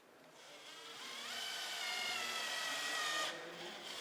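A power screwdriver driving screws into wooden bench parts for a camper van, one faint sustained whirring run that rises and holds for a few seconds before stopping.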